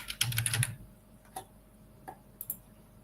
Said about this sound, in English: then I just type user